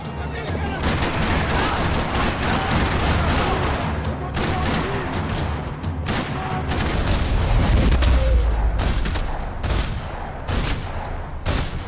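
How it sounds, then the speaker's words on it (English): Dense, rattling gunfire in a parking lot in the game Max Payne 3, rapid bursts and booming shots, continuous and loud throughout, with faint voices mixed underneath the chaotic battle noise. "Another parking lot rattling with gunfire."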